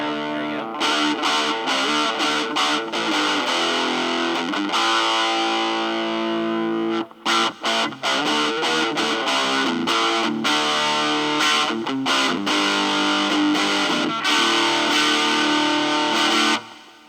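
An electric guitar plays through a Leo Jaymz tiny wooden amp with a crunchy distorted tone, loud chords and riffs ringing close up with a brief break midway before continuing.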